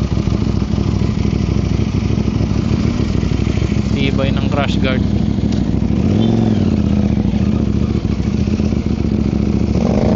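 A motorcycle engine with a crash guard drones steadily nearby on a mountain trail while someone talks over it, with a short clatter and a brief rev in the middle.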